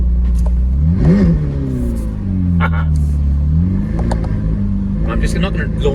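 A McLaren supercar in manual track mode pulls away: its engine note climbs, dips and climbs again in close, continuous revving with a heavy low rumble.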